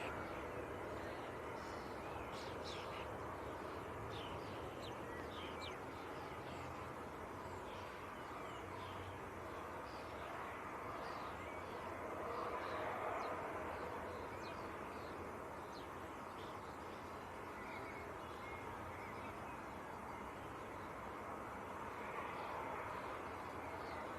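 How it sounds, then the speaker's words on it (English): A Wizz Air Airbus A321neo arriving from Cluj comes in to land at Leeds Bradford Airport, its engine a steady distant roar filling the whole stretch, with faint birdsong chirping over it. "and A321 Neo. It's coming in from Cluj. It's next to land."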